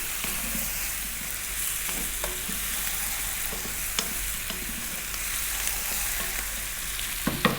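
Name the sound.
spices frying in a pan while being stirred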